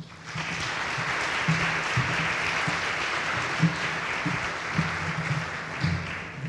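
Steady applause from a luncheon audience welcoming a speaker, a dense even clatter of many hands sustained throughout at moderate distance with no talk over it.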